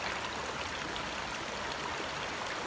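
A trail river on the Appalachian Trail rushes steadily nearby after a hiker crosses it on foot, a continuous broadband flowing water sound with no pauses and no talking.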